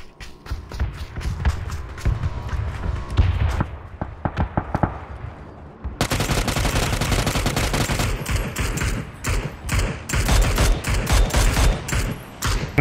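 Gunfire in the battle royale game PUBG comes as rapid bursts of shots that crackle close and loud, stop briefly, then return as dense, sustained automatic fire, with a voice faintly present underneath.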